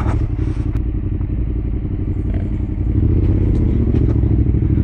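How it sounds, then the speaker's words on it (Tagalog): A motorcycle engine labors steadily and loudly up a steep dirt trail on a mountain adventure route, close to the listener, with light clattering and rattling over the rough ground and no talking. "Pagod din mag-ahon ng motor"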